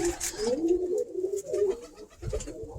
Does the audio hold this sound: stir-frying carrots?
no